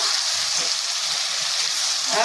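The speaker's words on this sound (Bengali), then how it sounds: "বিরিয়ানির জন্য মাংস আমাদের কষানো হচ্ছে বন্ধুরা" Meat for biryani sautéing in a pot, a dense continuous sizzle and hiss up close with a brief clatter near the end.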